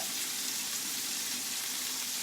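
Tomatoes frying in a pan for spaghetti carbonara, a steady, even sizzle with a soft hiss throughout and no voices.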